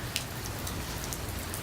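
Heavy rain pours steadily outdoors, a dense even hiss of drops striking surfaces with occasional louder splats, continuous and close, with no voices.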